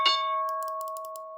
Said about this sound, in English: Here comes the bell in 3, 2,